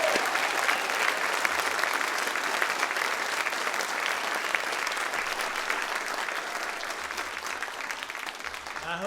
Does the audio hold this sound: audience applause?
yes